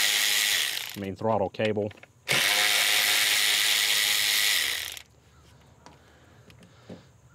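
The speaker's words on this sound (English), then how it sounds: "remove these 8 millimeters here for this throttle body bracket up here" A ratchet spins off 8 mm bolts from the throttle body bracket on a GM Vortec/LSx V8 engine, with loud sustained clicking runs broken by a brief spoken phrase, then a quieter stretch of light mechanical taps.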